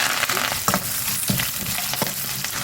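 Onion, green chillies and curry leaves frying in a pan give a steady, close sizzle with crackling pops and a few stirring scrapes, no voices.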